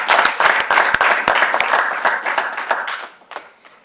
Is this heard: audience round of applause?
yes